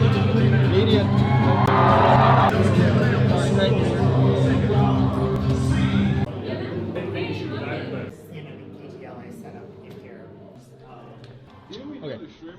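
A loud crowd cheering and whooping, a dense roar that drops to lighter scattered shouts partway through, with voices talking over it.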